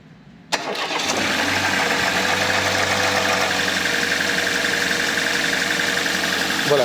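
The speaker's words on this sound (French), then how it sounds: "Une petite démo donc de moteur froid, d'accord, et un démarrage" A cold Mercedes A-Class W169 engine with a worn timing chain tensioner cranks and fires abruptly, then settles into a loud, steady idle, with faint rattle under the running engine.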